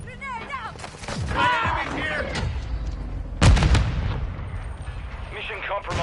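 A grenade in the video game Modern Warfare 2 DMZ goes off with a single heavy, booming blast partway through, amid game voice chatter and other battle noise.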